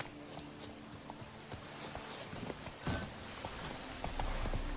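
Faint horse hooves clop in a steady walking rhythm in the video game The Witcher 3, light and distant under a soft background hiss.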